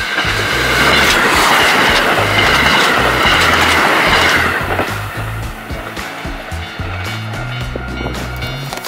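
Train pulling into a snowy station in Asahikawa, Japan, a loud, close roar of wheels and rushing air that eases after a few seconds into a steadier rattling rumble.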